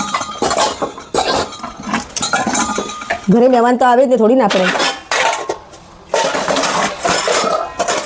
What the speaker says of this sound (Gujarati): આ વાસણનો ઢગલો જ છે હજી ગોઠવવાનો